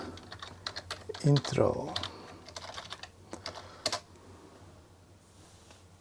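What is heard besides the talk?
typing a command on a computer keyboard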